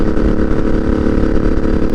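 A 2013 Suzuki Boulevard M50 (VZ800) bobber cruises in sixth gear at highway speed, its engine a loud, steady low drone mixed with rushing wind, close and continuous.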